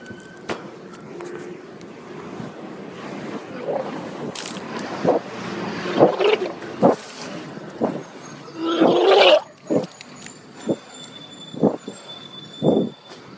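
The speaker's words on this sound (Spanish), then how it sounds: "Aquí la puedes escuchar de nuevo, vamos a ponerle la vomitada." A phone recording of a person vomiting is replayed, giving irregular retching gushes and heaving bursts over faint background noise, with one longer, louder surge partway through.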